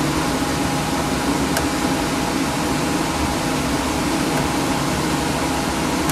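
Furnace blower fan running during heater servicing, a continuous steady whoosh with a low hum beneath, even in loudness throughout, with a couple of faint ticks.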